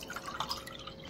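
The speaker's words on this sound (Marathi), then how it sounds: "आता आपण हे पाणी एका ग्लासमध्ये ओतून घेऊ" Water from a clay pot, scooped into a metal tumbler, is poured into a glass for an orange Tang drink, a brief close trickle with light dripping splashes.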